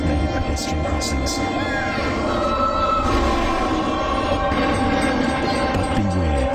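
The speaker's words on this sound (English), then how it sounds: "Trains are big, deceptively fast, and can't stop quickly." A big train rumbles past in a public service announcement, a steady, loud broadband roar with faint siren-like tones that fills the whole stretch while a voice talks over it.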